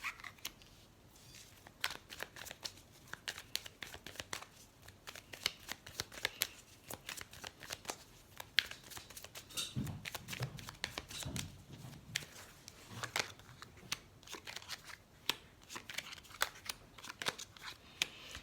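Tarot cards being shuffled by hand, with cards slipping and falling out, a soft continuous riffling and flicking of card stock, close and quiet, with no talk.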